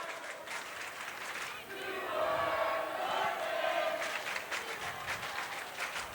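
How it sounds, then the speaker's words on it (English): Cheering section of a crowd at a high school volleyball match between Newark and Seneca, applauding and yelling across the gym, swelling into a louder roar midway before easing back to steady clapping and shouts. "We got quite a cheering section going to our left, back left."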